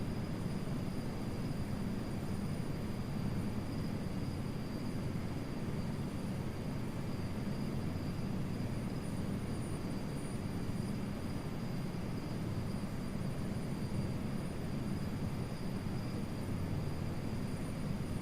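A steady drone with a constant whine fills the cabin of a base-edition helicopter in Microsoft Flight Simulator 2024. The rotor and engine roar stays even and unbroken for about eighteen seconds at low volume, with no talking.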